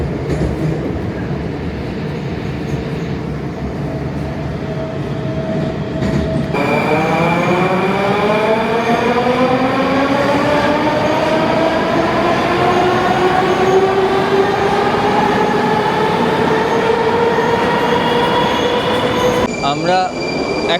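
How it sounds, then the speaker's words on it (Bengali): A Moscow metro train rolls past close by, its rumble and clatter swelling as the electric motors whine upward in rising pitch and wheels squeal, loud and continuous throughout. "মেট্রো যাচ্ছে।"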